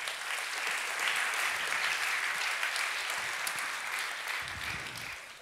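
Steady, full applause from an audience honoring students at a Jugend forscht regional award ceremony in Augsburg, sustained clapping throughout that eases slightly toward the end.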